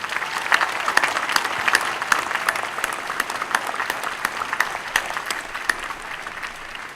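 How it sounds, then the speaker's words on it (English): A large audience at a university graduation ceremony applauds steadily, a dense, loud wash of clapping that holds for several seconds and slowly fades toward the end. "join me in one more round of applause for Dory Fontaine"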